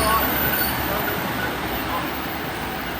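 A Northern class 150 diesel unit, 150 206, rolling through Dewsbury station: a broad, loud rumble of wheels and engine that fades slightly as it passes, with no clear voices.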